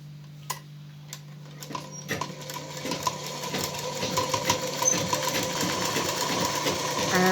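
Sewing machine starting up and settling into a fast, steady stitching rattle while sewing a dress fitting, close and fairly loud, with a low motor hum under it.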